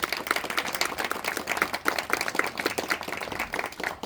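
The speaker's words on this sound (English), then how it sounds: "Let's give them all a round of applause" A crowd at an outdoor Veterans Day ceremony in a cemetery claps steadily and densely, a continuous moderate patter of many hands.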